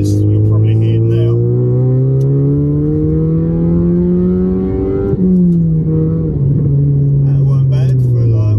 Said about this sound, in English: it's a very, very lively engine, guys. When that variable valve timing comes on, as you'll probably hear now,